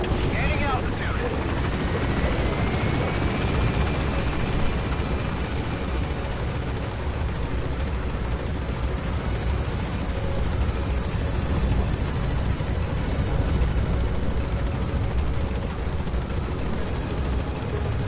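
A helicopter in Metal Gear Solid V: The Phantom Pain drones steadily as it gains altitude, a loud continuous rotor and engine roar filling the whole stretch with a faint voice underneath.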